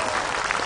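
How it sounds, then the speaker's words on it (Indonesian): Brief burst of dense audience applause at an Islamic sahur gathering, steady and fairly loud, with no talk over it. "Tepuk tangan dulu Bu."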